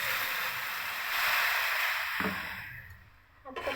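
Water is poured into frying onions for a potato curry, setting off a loud broad hiss that holds steady, then thins and fades near the end with a few small bubbling spits.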